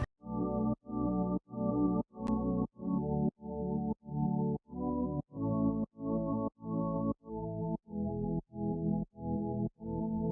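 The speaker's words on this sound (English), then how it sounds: "I took this lovely pad of my future bass preset pack and made these chords." Warm future bass synth pad chords pulse in a steady rhythm of short repeated swells, mid-loud and full, changing chord every few beats with no talking.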